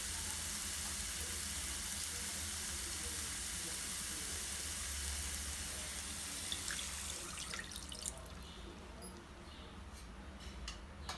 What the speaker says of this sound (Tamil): இப்போ இந்த டைமில் 2 கப் தண்ணி ஊற்றிக்கலாம்.